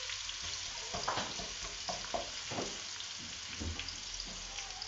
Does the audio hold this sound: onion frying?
yes